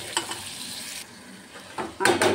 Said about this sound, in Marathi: टोमॅटो छान असा बारीक चिरलेला आहे, तो परतवून घ्यायचा आहे सोबतच।